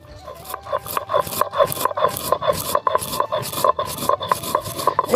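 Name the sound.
grinding roasted coriander and cumin into powder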